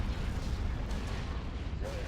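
Cannon fire in a Star Wars space battle game, with heavy booming rumble continuing throughout as dense low-end explosions and gunfire, loud and sustained with no clear individual shots.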